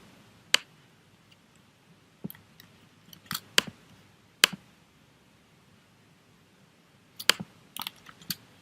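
Scattered sharp clicks of keys on a computer keyboard, arriving in short irregular clusters separated by pauses, close and fairly quiet against a low background hum.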